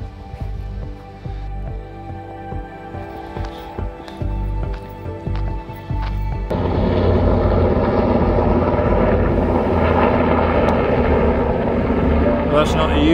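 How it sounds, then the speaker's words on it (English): A helicopter of the oil-rig type flies overhead above a riverside path, its rotor drone growing louder and nearer partway through and holding steady, with someone talking over it. "That's not the usual helicopters you see around here."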